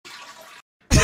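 Water rushing into a toilet bowl during a refill, a steady broadband wash for about half a second, a brief pause, then a louder close burst of gushing water at the end.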